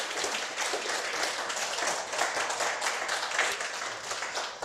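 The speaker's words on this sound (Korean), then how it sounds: "방금 인사해 주셨던 우리 8개 단체 회장님께 다시 한번 큰 박수" At a health-care technicians' day ceremony, a seated audience gives a dense round of clapping that holds at a steady, moderately loud level throughout.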